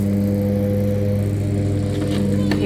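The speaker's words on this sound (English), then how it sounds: "Daddy on the lawnmower." A riding lawnmower drones steadily at a distance, a constant engine hum with no breaks.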